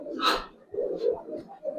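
Giribaz pigeons coo softly close by, giving a few low, burbling calls in short bursts over under two seconds.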